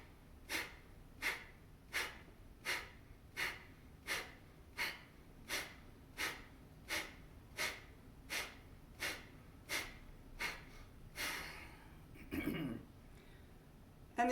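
Kapalabhati yoga breathing: a rapid, even series of about eighteen sharp, forceful nasal exhalations, close and distinct, spaced roughly every half second to second, ending with a longer breath and a brief vocal sound.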